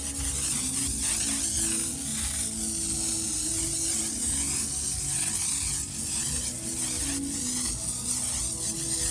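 A pump sprayer hisses steadily while spraying Superclean foaming pre-wash for pressure washing, a continuous, fairly loud spray with no talk.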